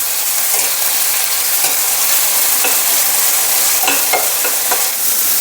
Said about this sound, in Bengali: চাটনি বানানোর জন্য আমি ফ্রাই প্যান বসে দিচ্ছি। একটু রিফাইন তেল দিয়ে দিচ্ছি।